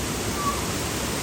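Waterfall on a steep mountain hike to Hayato Great Falls in Japan, heard as a steady, dense roar of rushing water with no clear breaks, close and loud throughout a short moment.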